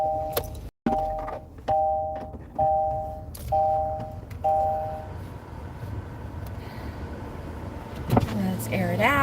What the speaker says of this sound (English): Let me start the car.